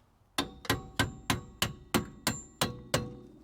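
A hammer taps a bolt during rear strut replacement on a 2005-2009 Subaru Legacy, nine sharp metallic strikes in an even rhythm, close and clear with ringing decay between hits.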